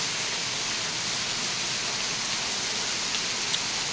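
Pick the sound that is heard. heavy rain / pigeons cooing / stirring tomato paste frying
heavy rain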